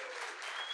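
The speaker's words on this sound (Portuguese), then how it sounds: "Eu vou chamar ela com muita salva de palmas, Vivi Santiago." A brief burst of dense, steady applause from an audience, many hands clapping together at an even level.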